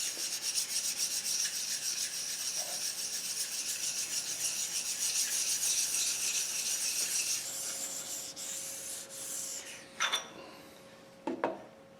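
A sharpening stone rubs steadily across the metal of a Rockford 36-inch hydraulic planer, a continuous close rasping for several seconds that fades, followed by a few short, sharper scrapes near the end.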